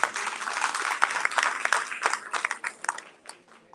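A crowd claps together in a burst of applause, many hands patting at once, fading out toward the end.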